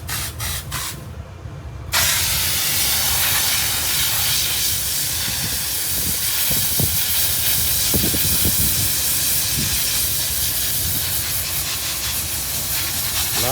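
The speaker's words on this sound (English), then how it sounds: "he's fired up the boiler, warming up the steam." Steady, loud hiss of live steam venting continuously from a boiler in a workshop, with a short quieter stretch at the start before the full rush.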